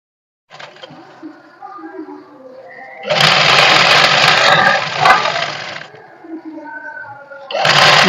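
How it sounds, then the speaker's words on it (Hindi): A sewing machine stitching a trouser with an elastic waistband: loud, close bursts of steady mechanical whirring and rattling, with a quieter pause between runs where faint handling sounds and a voice come through. "इस पर सिलाई लगा देंगे।"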